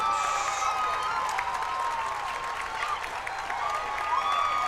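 A baseball playoff crowd at a high school 3A game cheers and claps in a sustained, moderately distant roar, with whistles and shouts poking through the steady wash of noise.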